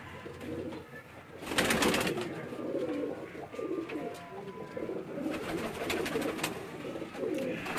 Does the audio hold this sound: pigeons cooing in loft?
yes